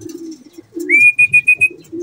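A racing pigeon returning to its home loft in Novaliches after a race from Matnog, Sorsogon gives a clear, close call: a rising note and then several short pulses, over low background rumble.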